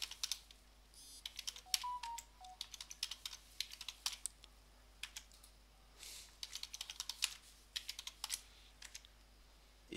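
Fingers type a password on a computer keyboard in quiet, irregular bursts of soft, close key clicks with short pauses between runs, against a faint steady hum.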